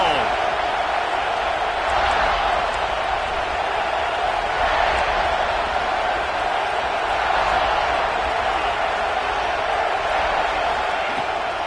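A packed college football stadium crowd at a South Carolina vs Texas game keeps up a steady, loud, broadband roar for the whole stretch, with no clear breaks or distinct cheers standing out.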